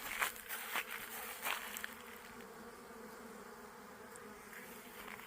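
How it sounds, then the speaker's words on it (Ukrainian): Honeybees buzz near two beehives in a village garden, a faint, steady insect hum with a few louder passes close by early on, then a thinner drone. "О, наші бджілки. Тут ще два вулика стоїть."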